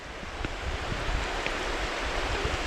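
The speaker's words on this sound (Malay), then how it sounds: "Hujan pula." Rain falls steadily outdoors in a forest, a soft, continuous hiss of drops with faint scattered patters and no voices.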